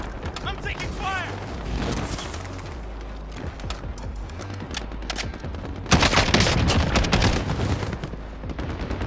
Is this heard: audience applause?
no